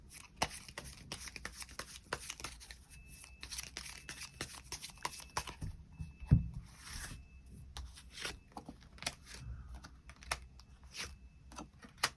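Tarot cards shuffled and drawn: quiet, close-up papery flicks, taps and slides in quick irregular succession, with one louder knock midway.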